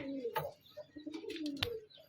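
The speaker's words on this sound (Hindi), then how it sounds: "और ये रहे हमारे कबूतर" Soft pigeon coos and a few faint chirps, close by and low in volume.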